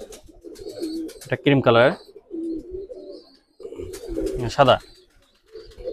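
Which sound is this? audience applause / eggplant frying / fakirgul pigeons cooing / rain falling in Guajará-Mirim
fakirgul pigeons cooing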